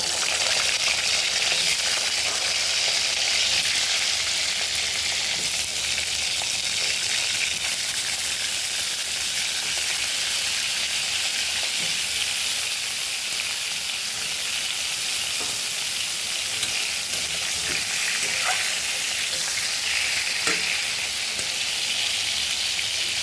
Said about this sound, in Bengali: কড়াইতে তেল গরম হয়ে গেছে, এখন আমি এক এক করে পটলগুলো ভেজে নেব।